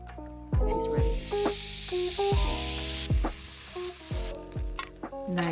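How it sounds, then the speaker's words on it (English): Steady loud sizzling hiss of bacon frying in a pan while camping in Japan, with clinks and knocks of a utensil against the pan at irregular intervals. "Ooh, the pan is sizzling."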